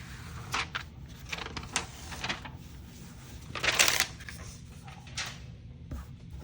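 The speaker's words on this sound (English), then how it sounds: "I'm gonna peel it off." A Ninja DTF transfer film is peeled off a t-shirt in close, crinkly, papery crackles and short tearing rasps, with one longer strip in the middle, quiet and without talk.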